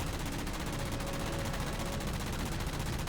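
Continuous gunfire from Halo Spartan Ops, played on Legendary solo: a dense, unbroken stream of rapid automatic shots at steady loudness for the full stretch, with no talking over it.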